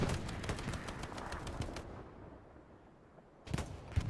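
Rocket blast in Hell Let Loose on Omaha Beach, a dense crackle of explosion and gunfire fading into quiet, then a sharp burst of fire returning near the end.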